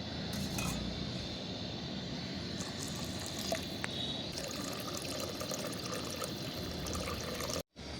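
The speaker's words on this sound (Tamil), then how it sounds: "தேவையான அளவு தண்ணி ஊற்றிக்கலாம்" Water pours steadily into a cooking pot of sautéed ingredients for pea rice with a continuous splashing rush, close by, alongside a faint sizzle and a brief clink.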